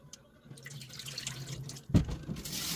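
Water runs from a tap while oysters are washed at a sink, a soft trickling flow with one louder splash near the end.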